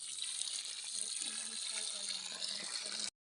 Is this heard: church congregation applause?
no